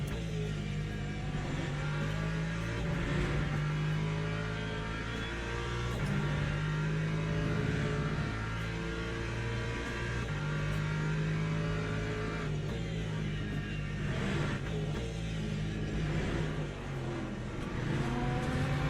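Race car engine in the Le Mans Ultimate sim racing game, revving and holding steady load as gears change, loud and continuous with no talk over it.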